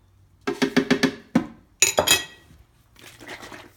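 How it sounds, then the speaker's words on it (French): A spoon taps and clinks against a blender container while chia seeds go into a smoothie, a quick run of five light strikes, then a single one, then a few more, followed by softer rustling. "Je mets environ 2 cuillères à soupe de graines de chia"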